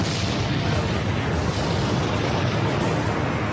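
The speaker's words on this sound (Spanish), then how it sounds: "Luego el Vesubio erupcionó." Vesuvius erupting is rendered as a dense, continuous roaring rumble, loud and broadband, with no distinct bursts and no voices.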